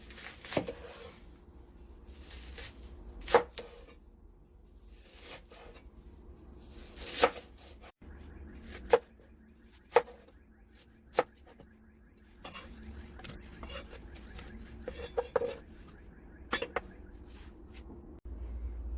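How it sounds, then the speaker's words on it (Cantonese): Onion sliced with a knife on a cutting board in a quiet kitchen, scattered sharp chops and taps at irregular intervals with soft handling noises between. "洋葱洗乾淨切開佢。"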